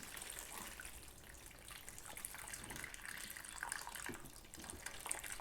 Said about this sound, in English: So you can just grab any tray like this, or if you have a shallow bowl, and just fill it with water.